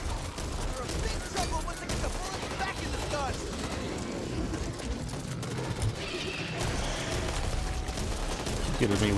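Rapid bursts of gunfire from the zombie shooter Back 4 Blood fill the stretch, dense and continuous, with chopping shot patterns layered over game noise while a voice talks over it.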